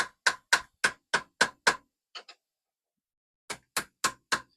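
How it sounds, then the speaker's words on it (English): Hammer blows on a chisel driving a seized piston from the cylinder of a 1972 Aston Martin AMV8 engine: two bursts of about six sharp, evenly spaced metallic knocks with a couple of faint taps and a pause between, close and loud. "So what you do is you chisel, and you might be able to see it rotate."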